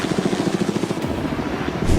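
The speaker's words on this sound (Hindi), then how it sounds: "ये हेलीकॉप्टर हमारे बॉयज को ऊपर हवा में ले जाएगा" Helicopter overhead, rotor blades beating in a loud, steady, close chop with a dense engine roar filling the whole moment and no voices over it.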